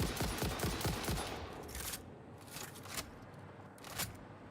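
Faint, far-off gunshots, a quick cluster of rapid cracks followed by a few scattered single reports, heard outdoors at low volume against quiet background noise.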